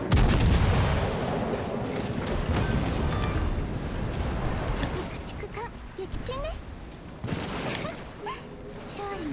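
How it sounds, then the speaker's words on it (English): Secondary guns of a warship firing in World of Warships: Legends: repeated booming gunfire and artillery bursts, loud at first then continuing in clusters, with game voices and tonal effect sounds mixed in. "That's a lot of secondaries."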